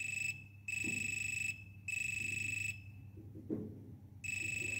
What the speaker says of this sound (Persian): روی این کلید وقتی قرار میگیره صدای آلارم بلند میشه